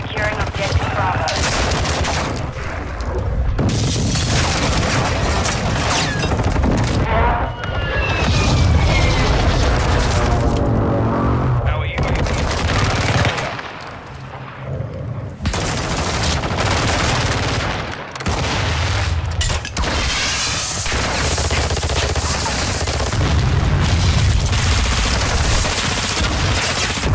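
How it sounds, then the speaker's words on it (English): Heavy, almost unbroken barrage of airstrike explosions and rapid gunfire in Call of Duty: Modern Warfare 2 (2022) multiplayer: loud booms, crackling automatic fire and short lulls, with occasional speech beneath. "Friendly airstrike on the way."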